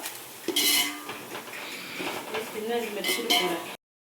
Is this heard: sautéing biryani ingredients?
yes